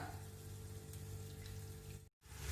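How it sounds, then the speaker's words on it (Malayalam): A small amount of water is poured into a curry masala for curd brinjal curry, giving a brief, soft, continuous splashing rush that cuts off abruptly near the end. "ഇനി ഇതിലേക്ക് ഒഴിക്കേണ്ടത് കുറച്ച് വെള്ളം, വളരെ കുറച്ച് വെള്ളം ഒഴിക്കുക"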